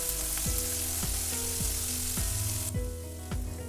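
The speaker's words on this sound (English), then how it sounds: "we will saute the onion ginger garlic paste until the raw taste goes away." Onion with ginger garlic paste and a slit green chili sauteing in a pan for a spinach fish curry: a continuous loud sizzle with rhythmic scraping and stirring strokes recurring about every half second.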